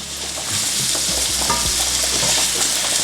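Norwegian salmon fillet fries in a hot pan with a loud, steady sizzle throughout, with occasional stirring or scraping clicks near the mic and no talking.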